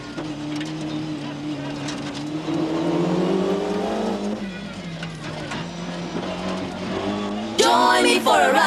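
A new Formula 2 Ford rally car at the 1994 Rally of the Lakes drives past with a loud, rising then falling engine note as it accelerates, and a sharp burst of noise near the end.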